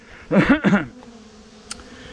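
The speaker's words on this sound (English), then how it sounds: "Bees with pollen on them coming in." Honeybees dusted with pollen fly in close, giving two short, loud buzzing passes followed by a quieter lingering hum and a faint click.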